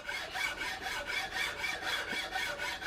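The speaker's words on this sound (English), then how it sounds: "I've got my file held at an angle here, just like when we talked about with draw filing the barrel" A fine file works at an angle across a hard cherry wood stock on a Kibler Southern Mountain flintlock rifle, giving a close, even rasping rhythm of about eight back-and-forth strokes.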